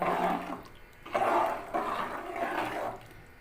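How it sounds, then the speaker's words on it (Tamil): Water streams steadily in bursts into a cooking pan for Chettinad brinjal and field bean curry, a splashing pour with short pauses between, close and moderately loud. "தேவையான அளவு தண்ணி சேர்த்துக்கணும் நீங்கள்"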